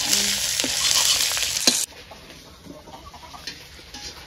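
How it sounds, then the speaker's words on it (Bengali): Eggplant frying in a pan in a village kitchen, a loud steady sizzle with stirring scrapes that drops abruptly to a much quieter background partway through. "এটা আমি বেঙেনা ভাজিম"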